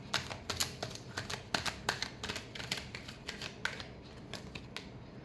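Tarot cards riffled and shuffled by hand, a quick run of crisp papery flicks and snaps in an uneven rhythm, close and fairly quiet with no talk.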